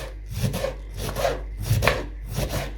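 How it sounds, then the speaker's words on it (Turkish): A knife slices cabbage thinly on a cutting board for kapuska stew, four rhythmic bursts of chopping strokes close up, with no talking. "Şöyle ince ince doğruyorum arkadaşlar"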